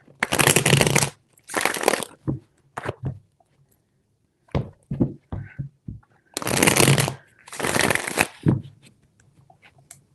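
Tarot cards are shuffled in quick riffling bursts, several times in a row, with short pauses and small taps between them, close and crisp.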